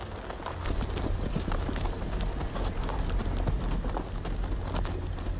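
Horses run with a steady clip-clop of hooves over a dense, rumbling background in Telltale's Game of Thrones video game, loud and continuous with no speech.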